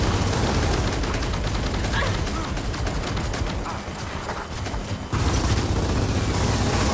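Continuous heavy gunfire from the Gears of War campaign, a dense, loud barrage of rapid shots and booms that runs the whole stretch, easing slightly midway before surging again.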